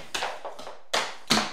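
Dance shoes strike a hard floor in a few sharp clogging taps, followed by two crisp, loud hand claps, all close and alone without talk.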